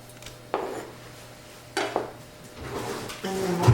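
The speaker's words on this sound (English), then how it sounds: "I'll get my ham ready, and I'll just cut that into small cubes." A knife cutting smoked ham into small cubes, a few sparse soft knocks and scrapes heard close by, with quiet stretches between them.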